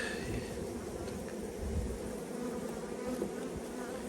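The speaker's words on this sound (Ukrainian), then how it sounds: "Тут бджілки викучились вже." Dense, steady buzzing of many honey bees at an open hive frame, a continuous close drone with no talk over it.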